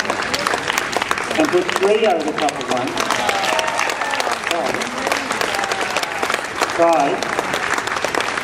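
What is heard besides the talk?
audience applause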